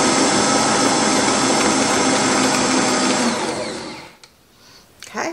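A blender mixing cookie batter with zucchini whirs loudly and steadily for a few seconds, then winds down and stops, leaving faint clatter.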